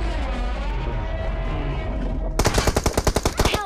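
Machine gun fire in a mobile shooter game: after a couple of seconds of rumbling ambience, a rapid burst of loud, evenly spaced shots rattles out close by.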